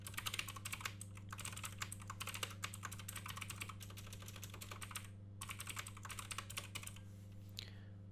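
Rapid clicking of keys on a computer keyboard as a layout name is typed, close and continuous with a brief pause, over a steady low hum with no talk.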